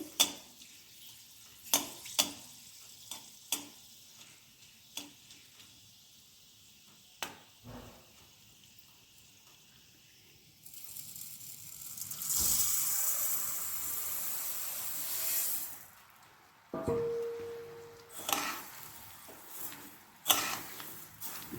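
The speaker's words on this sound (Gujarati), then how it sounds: "હવે આને સરખી રીતે હલાવી લઈશું અને એકદમ ધીમા તાપે ધાણાને સરસ આપણે શેખી લઈશું" Whole coriander seeds and cloves roasting in a pan over very low heat, with scattered scraping stir strokes and light clicks, then a stretch of soft sizzling hiss; quiet and close.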